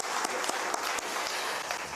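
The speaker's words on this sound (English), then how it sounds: "Can we clap for them?" A crowd at a water week school awards event claps for the regional winners, a continuous rush of many hands with a few sharper claps standing out, steady and moderately loud throughout.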